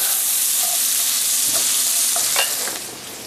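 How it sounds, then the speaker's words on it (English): Roughly chopped onion fries in a pan, giving a loud continuous sizzle with a few soft scrapes of stirring near the end. "we're going to stir these until they get kind of translucent"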